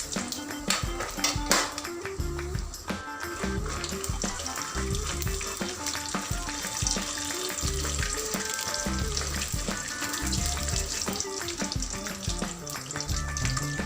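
Peanuts and broken dried red chillies fry in a pan in hot oil, giving a continuous close sizzle with scraping stirs, and a faint background melody runs under it.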